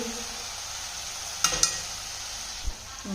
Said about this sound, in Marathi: त्यानंतर हे सगळे मसाले मंद गॅसवर भाजून घ्यायचे आहेत